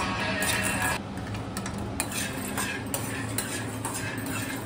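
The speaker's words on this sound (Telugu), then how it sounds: "పల్లీలు మాత్రం ఇట్లా దూరంగా వేయించుకోండి, మాడబెట్టకండి." Peanuts are roasted in a pan, giving a dry rattling and scraping of nuts stirred against metal, with irregular light clinks and taps close by and no talking.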